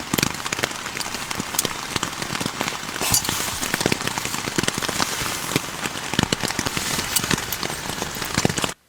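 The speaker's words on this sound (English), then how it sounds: "That rain is coming down now" Steady outdoor rain pours down hard, a dense continuous hiss with scattered sharp droplet taps striking surfaces nearby, heard on its own without voices.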